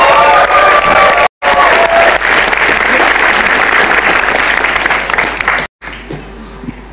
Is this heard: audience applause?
yes